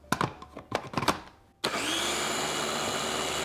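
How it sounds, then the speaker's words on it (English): Soup with broth goes into a blender, with a few knocks and clatters first. The motor then starts abruptly and whirs loud and steady to the end, blending alone with no talk. "we'll go 1 more blend"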